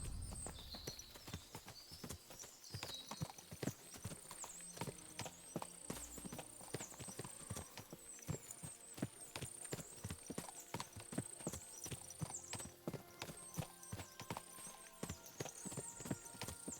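Many horses' hooves clop rapidly and continuously in overlapping rhythms, with occasional whinnies, set against a soft backdrop of game sounds from Kingdom Come: Deliverance 2.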